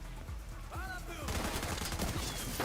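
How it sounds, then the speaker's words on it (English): Holiday-event fireworks in the video game The Division 2, a rapid crackling volley of bursts and pops that swells and keeps going, loud over the game's background. "Fireworks!"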